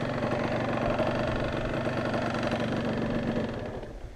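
A Yamaha DT 125 motorcycle engine, running somewhat too rich, runs steadily at close range with a dense, continuous drone that eases off slightly near the end, and no voices are heard.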